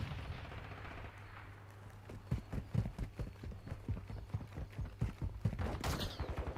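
Modern Warfare II multiplayer hardpoint match with rapid automatic gunfire, close sharp bursts of shots in quick succession over a low steady hum, growing louder and denser toward the end.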